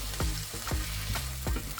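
Garlic paste fries in a pan with a steady sizzle, while a utensil stirs it in four regular scraping strokes.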